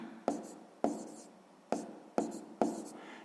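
Pen strokes writing numbers on paper while working a sixth-grade math exercise, five sharp taps or strokes spaced about half a second to a second apart, each fading quickly, close and alone without talk.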